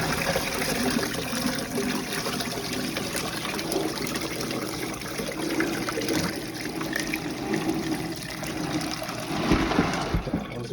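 Water from a bucket used to clean Hydroton clay pebbles pours steadily through a strainer into another container, a continuous close trickling and splashing that runs alone the whole time.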